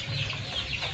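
Broiler chickens in a poultry farm shed clucking continuously, a dense, steady chorus of many birds at moderate volume with no single standout call.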